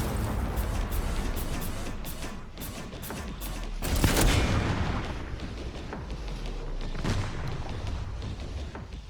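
Mortar fire against zombies in the Resident Evil Requiem video game, heard as a steady barrage of rumbling booms and crackling blasts with one heavier explosion near the middle, dense and continuous throughout.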